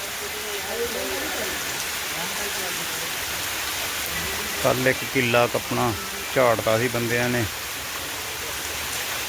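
Heavy rain pours steadily outdoors in a farming area during harvest, a constant dense hiss throughout, while someone talks over it in the middle.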